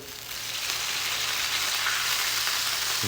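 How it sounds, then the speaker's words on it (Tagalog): Soy sauce hits a hot pan of garlic, setting off a loud, steady hiss of sizzling oil that holds evenly throughout with no voices. "Lagay natin ang ating toyo. Lagyan natin ng toyo."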